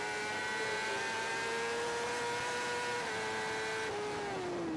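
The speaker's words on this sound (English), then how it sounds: "Just listening to the bike there as it comes down into Lisboa." A high-pitched racing motorcycle engine drones steadily on the Macau Grand Prix street circuit, its pitch dipping gently then dropping further as it passes heading into Lisboa bend, loud and continuous throughout.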